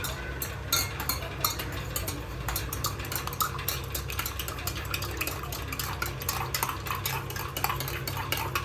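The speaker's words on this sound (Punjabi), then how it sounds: "ਚਮਚ ਲਿਆ ਮਿਕਸ ਕਰੀਏ" A spoon stirs homemade food, producing a continuous run of close metallic clinks and scrapes against the dish at a brisk, uneven rhythm, with no talking.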